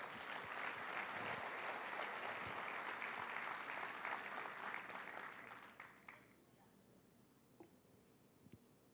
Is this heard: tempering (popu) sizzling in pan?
no